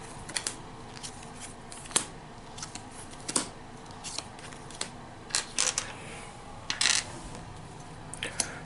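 Cards from the Pathfinder Adventure Card Game, Skull and Shackles, are drawn and handled on a table, giving a scatter of soft, close slides, flicks and taps with quiet gaps, fairly faint and with no talking.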